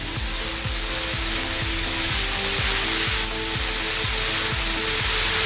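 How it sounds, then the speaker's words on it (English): Loud, steady sizzling and crackling of spinach wilting in a hot pan, with occasional soft stirring bumps underneath. "Spinach wilts down really quick."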